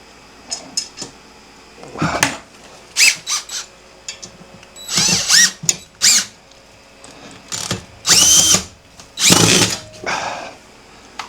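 A power drill drives screws into a mounting bracket at a homestead, sounding in several short bursts of whirring with brief gaps between them, close and fairly loud.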